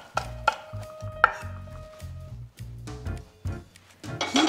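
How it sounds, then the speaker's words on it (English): Knife chopping green and red chili peppers on a cutting board, a steady series of sharp close taps in uneven rhythm with a few brief pauses. "Chop both green and red chili peppers according to your preference for spice."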